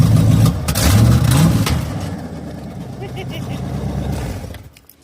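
A C4 Corvette with muffler-delete exhaust gives a short, loud, close rev that rises and settles to a rumbling idle before cutting off, with someone talking over the start.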